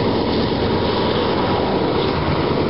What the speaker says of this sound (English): we got a train coming through right now